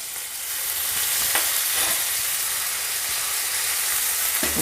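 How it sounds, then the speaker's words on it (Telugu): Chickpea chicken curry fries in a pan with onion, coriander and fenugreek leaves, giving a loud, steady hiss and sizzle with a few faint stirring scrapes. "కొత్తిమీర మెంతన కూర వేసి కొద్దిగా వేగినాక"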